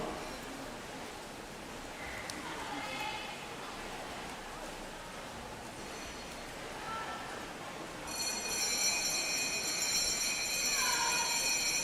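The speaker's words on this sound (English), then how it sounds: "That is some vicious bell ringing on 6." Church bells ring in rapid, clashing peals, faint and distant over a steady wash of outdoor noise.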